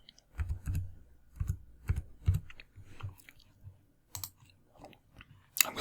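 Typing on a computer keyboard, close up, in irregular bursts of clicking keystrokes with short pauses between groups and a final sharp tap.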